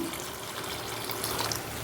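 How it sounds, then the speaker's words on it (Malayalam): Water is poured from a glass into a simmering green gram lentil curry, a continuous soft trickle that stays fairly quiet and even throughout, with no voices. "ഒരു മുക്കാൽ ഗ്ലാസ് വെള്ളം കൂടി ഇതിലേക്ക് ഒഴിച്ചു കൊടുക്കാം"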